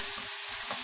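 Tomato going into a hot pan for egg rice, a brief, close sizzle with faint stirring, steady and moderately loud, with no voices.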